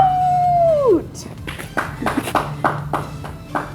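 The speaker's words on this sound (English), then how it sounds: "My dad's clapping." A few hands clapping near an outdoor pool after a workout, a short run of sharp, evenly spaced claps following a long whistle-like tone, no talk.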